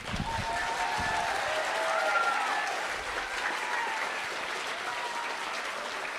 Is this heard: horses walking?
no